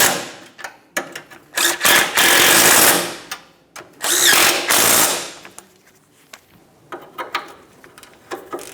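Quick bursts of ratcheting as a ratchet snugs the CV axle mounting nuts on a 2006-2011 Honda Civic, rapid clicking runs in several short spurts of a second or two, close and loud, with pauses between.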